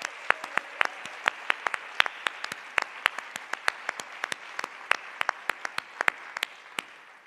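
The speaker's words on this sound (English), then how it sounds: "Please join us in extending a huge round of applause for Nancy Tomlinson." An audience at the Impact 100 Palm Beach County 2022 Grand Awards gives a light, scattered round of applause, individual claps sharp and distinct at a steady pace for several seconds.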